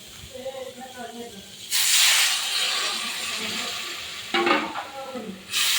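Loud sizzling hiss bursts up as water hits a hot pan of fried vegetables and potatoes, fades to a steady simmer, then flares again twice; a voice speaks briefly before it.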